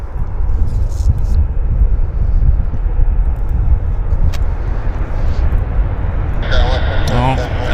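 Airliner engine roar at Vancouver Airport, a steady broadband rumble running throughout, loud and continuous, with a voice talking briefly near the end.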